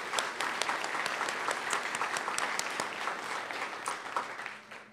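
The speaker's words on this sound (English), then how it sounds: "Please give all of our contestants a round of applause for the outstanding job that they did." An audience at a Young Farmers & Ranchers discussion meet applauds the contestants, a full, steady round of many hands clapping that fades near the end.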